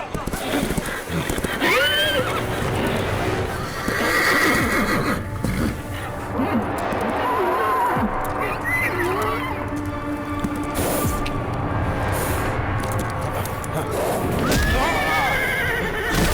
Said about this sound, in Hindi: पहले जाके अपने बेकाबू हुए घोड़े को कंट्रोल करो।